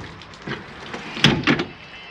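The entry steps of a Jayco Jay Flight 32BHDS travel trailer are folded up, with a few scraping metallic clunks and a louder double clatter near the end as the steps lock into place.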